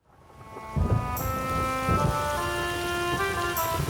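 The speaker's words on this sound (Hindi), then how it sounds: "बहुत बारिश है बाहर।" Steady rain hisses throughout in an animated cartoon, with a few low rumbles and sustained tonal hums layered over the constant wash.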